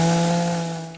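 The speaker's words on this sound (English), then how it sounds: "with a chainsaw you can cut whatever tree size you cut" A chainsaw cuts a small tree in the video game DayZ, its loud buzzing motor droning with a steady pitch before fading slightly at the very end.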